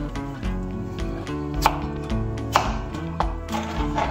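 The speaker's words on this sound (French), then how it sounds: "Nous allons fendre ces pommes de terre en deux." A knife cuts potatoes in half on a cutting board, giving a series of crisp, close chops and taps at an uneven pace against a faint background hum.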